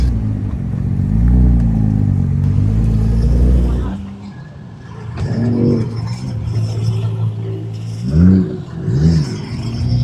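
Cars pull out of the speed park at a racetrack in Thailand, with a loud close engine rev that drops away, followed by quieter passing vehicles, clatter and scattered motor noise.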